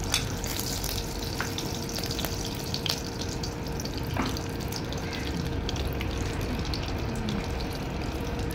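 Edible gum (gond) sizzling and crackling in hot desi ghee, a continuous dense frying hiss with scattered pops, close and steady.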